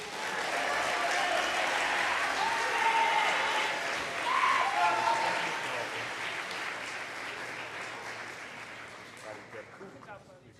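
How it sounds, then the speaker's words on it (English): Audience at a school athletic awards ceremony applauds the varsity baseball MVP, sustained clapping from a roomful of people that swells, gives way to scattered cheers, and gradually thins out toward the end. "So let's go ahead and give him a round of applause."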